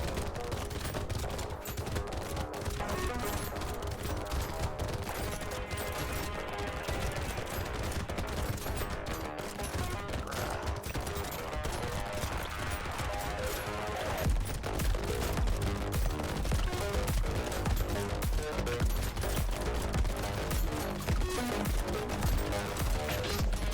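Rapid shotgun fire with piercing shots in the video game Brotato, a dense stream of sharp bangs layered over game music, steady and continuous throughout.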